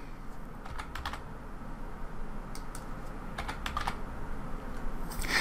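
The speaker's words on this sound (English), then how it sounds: "So we're gonna type in, or negative 24." A computer keyboard is tapped while a number is entered in Fusion 360: a few scattered close keystrokes in small clusters over a quiet room background, fairly soft, with no talking.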